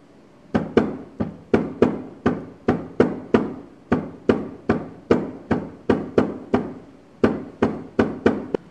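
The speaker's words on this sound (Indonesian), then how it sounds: "sekarang kita ketok menggunakan palu ya" A hammer pounds folded sandal upper material in a home workshop: about two dozen loud, sharp, evenly spaced blows with no talking.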